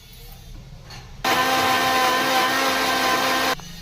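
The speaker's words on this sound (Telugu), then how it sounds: "దాని తర్వాత టమాటాలు కూడా వేసుకొని మిక్సీ పెట్టుకోవాలా." A mixer grinder starts abruptly after quiet rustling, whirring loudly and steadily for a couple of seconds as it grinds garlic and tomatoes, then cuts off.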